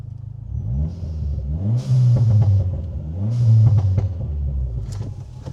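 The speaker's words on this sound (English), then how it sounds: "when you downshift, it's just got some insane burbles" A Dodge Neon SRT-4 burbles and pops on the downshift, loud and close from inside the cabin, its engine note dropping and rising in rumbling swells with crackles on the overrun.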